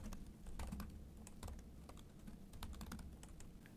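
Code typed on a computer keyboard: quiet, rapid key clicks in an uneven, continuous patter over faint room hum, with no voice.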